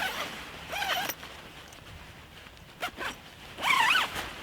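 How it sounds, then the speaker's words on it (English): The zipper of a Snugpak Special Forces sleeping bag is run back and forth in a few quick, close rasping strokes with short pauses between them. "So far, I think the zipper is outstanding."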